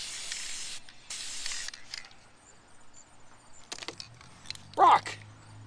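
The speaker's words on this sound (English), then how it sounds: "And we're going to spray a rock in there." Two long hissing bursts from a spray paint can sprayed through a stencil, followed by clicks, rattles and a short final spray, close up and fairly loud.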